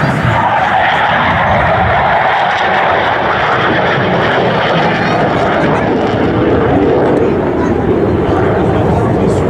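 A Super Étendard Modernisé naval jet fighter making a high-speed crossing pass at a French air show, a loud, sustained roaring engine rush dominating throughout, with a commentator's voice over it.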